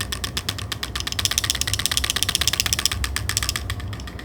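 A rapid, steady mechanical ticking and whirring from a DJI Osmo Pocket camera gimbal, close and continuous, with small motor-like clicks running fast throughout.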